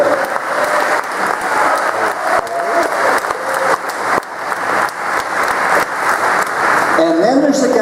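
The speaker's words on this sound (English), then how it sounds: "How about a round of applause for her?" An audience at a hall of fame induction ceremony keeps up loud, sustained applause throughout, with dense clapping from a large crowd and a few scattered voices underneath.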